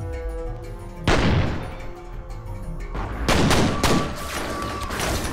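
Shotgun blasts in the game F.E.A.R., with a heavy booming shot followed by several more loud blasts in quick succession, each leaving a short echoing tail.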